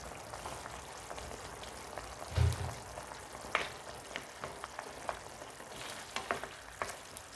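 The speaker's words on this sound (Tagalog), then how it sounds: "Tapos, ilagay ko na itong pineapple chunk." Pineapple chunks go into fried milkfish in a pan, giving a faint, steady frying sizzle with a soft thud near the start and scattered small pops and clicks throughout, no voices.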